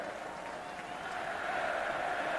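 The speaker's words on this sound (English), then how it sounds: "And the crowd is chanting Eric Berry." Football stadium crowd at a 2008 Tennessee vs Mississippi State game chanting Eric Berry's name, a broad, steady roar of many voices that swells slightly toward the end.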